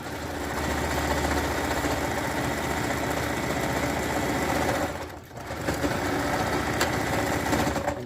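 A sewing machine runs steadily while stitching a leotard seam made from a sports jersey, a continuous close mechanical whir with a brief slowdown midway before resuming at full speed.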